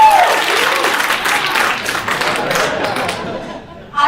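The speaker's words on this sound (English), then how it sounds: "can we get a round of applause in the room?" A room full of people applauds during a Dance Marathon event, steady clapping with scattered chatter and light laughter mixed in, fading slightly before a voice cuts back in at the end.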